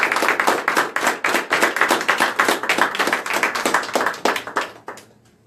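Loud, dense clapping from a church congregation at a Spanish-language Easter service, a steady burst of hand claps that carries for several seconds and then tapers off.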